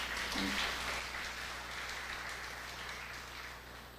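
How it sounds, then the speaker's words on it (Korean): Steady applause from an audience at the founding general meeting of a forum, a dense even wash of clapping that holds at moderate level and slowly fades a little, with no talking. "여러분 큰 박수 한번 부탁드리겠습니다"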